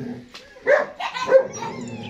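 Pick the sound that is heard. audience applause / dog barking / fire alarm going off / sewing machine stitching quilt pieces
dog barking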